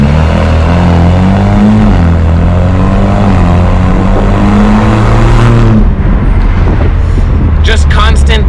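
A loud-exhausted Alfa Romeo engine pulls hard under constant throttle, its pitch climbing in a few stepped rises before dropping sharply with snapping gear changes, loud and close.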